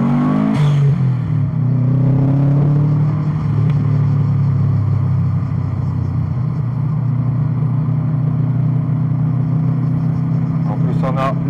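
A Subaru Impreza WRX with an STI engine block rumbles steadily nearby, holding a deep, continuous drone that swells briefly early on. People talk over the engine.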